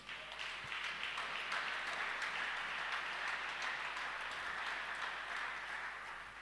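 A church congregation applauds together, a dense sustained patter of many hands clapping in a large room that stays steady before easing slightly at the end.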